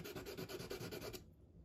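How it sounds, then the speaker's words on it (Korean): Sandpaper scrubs back and forth on wood in a quick, steady rhythm of short rasping strokes, close and fairly quiet, then stops. "사포질을 해주시고"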